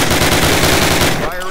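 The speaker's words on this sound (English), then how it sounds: "for one of the Thompson submachine guns on the table" A Thompson submachine gun fires a rapid automatic burst in a Call of Duty video game, loud and close, with the rattling shots evenly spaced before a quick cutoff and echo.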